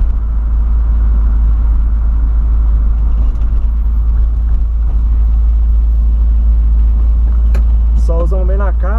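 A Volkswagen Voyage engine drones steadily with a low, constant rumble as the car is driven on a track, while voices talk over it.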